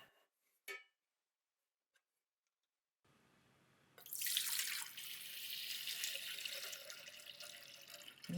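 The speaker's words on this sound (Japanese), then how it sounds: "水洗いしますよ。" Tap water runs over small pieces of sewn fabric being rinsed while making a pouch. After a faint click and a quiet stretch, a steady, fairly loud splashing stream starts and keeps going.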